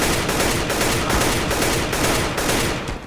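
Rapid CS:GO gunfire in the video game, dense loud shots in quick short bursts of two or three rounds, continuous for a few seconds with no talk.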